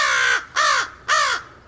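Three loud, close crow caws in quick succession, each a harsh rasping call about a third of a second long, separated by short pauses.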